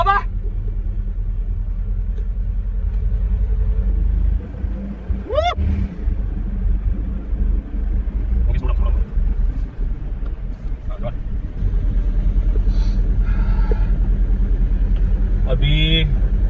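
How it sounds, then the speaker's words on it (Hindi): A Mercedes W123 engine revs hard during a burnout, a deep, loud, constant rumble close by, with brief voices and squeals rising over it at moments. "राजू, मोर गैस, मोर ब्रदर."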